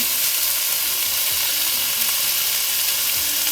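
Steady, close-up sizzling of chicken wings frying in a pan at medium heat, a constant crackling hiss with occasional soft scrapes and no talking.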